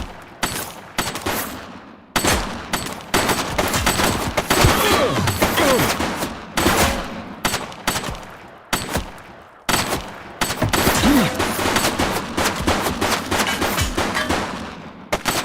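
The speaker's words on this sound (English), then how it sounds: "She's shooting!" Gunfire from a woman shooting in The Precinct, loud repeated bursts of rapid shots broken by brief pauses over about fifteen seconds, close and harsh.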